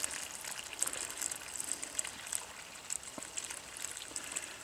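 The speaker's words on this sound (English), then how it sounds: "So I'll put some more water in here." Water is poured into holes dug in tilled ground, giving a faint, continuous trickling and gurgling with small splashy bursts, quiet and close with no talking.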